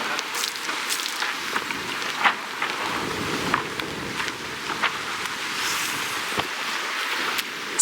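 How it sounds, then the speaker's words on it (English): Steady rain and drizzle patter on a sailboat under way at about five knots off La Grande Motte in overcast weather. The hiss is even and continuous throughout, with a few sharper drop hits and no talk. "It's rainy and drizzly, I would say, and overcast."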